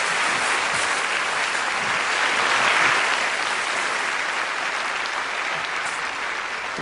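Steady, full applause from a theatre audience at a stage magic and mind-reading show as a volunteer named Emma is called up. Continuous clapping holds at an even level throughout and thins slightly near the end.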